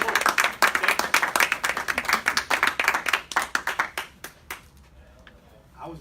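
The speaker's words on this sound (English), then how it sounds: "Can you give him a big round of applause?" At a team building summit, an audience gives a big round of applause: distinct, rhythmic hand claps from a modest crowd, fairly close and lively, thinning out and fading after about four seconds to near quiet.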